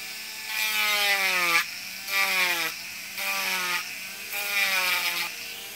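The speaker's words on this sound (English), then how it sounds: "I have two different size Dremel barrel rollers is what I call them." A high-pitched Dremel rotary tool with a small sanding drum whirs in four bursts with short pauses between, its pitch dropping as it bites into the material, close and fairly loud.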